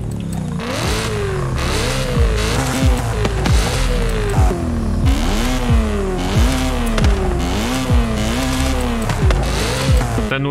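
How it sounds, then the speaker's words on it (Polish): A BMW E30 with its stock exhaust revs repeatedly in Forza Horizon 5, rising and falling in rapid bursts, loud and continuous with a buzzing exhaust note. "Chyba ten standardowy wydech brzmi najlepiej"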